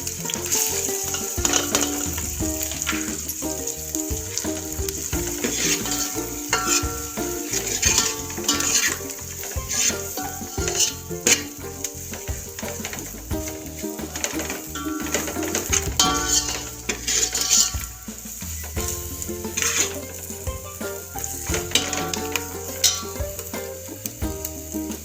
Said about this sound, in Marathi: बघा थोडं तेल टाकते, त्याचा मसाला तळा पुरतो.